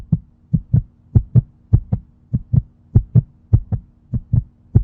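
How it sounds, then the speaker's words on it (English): A steady, close heartbeat thumps in paired beats over a low hum, repeating at a brisk, even pace with no other sounds. "my heart is beating out of my chest. That noise"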